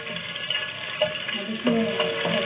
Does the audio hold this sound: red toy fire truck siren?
no